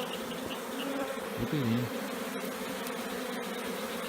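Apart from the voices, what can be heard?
honeybee swarm buzzing in a box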